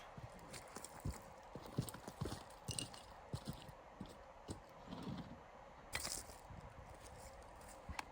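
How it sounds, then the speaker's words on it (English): A Japanese carpentry saw cuts through thick bonsai roots outdoors at a shale pit, producing faint, rhythmic rasping strokes in quick repeated bursts. "This is a Japanese carpentry saw that's working really nice."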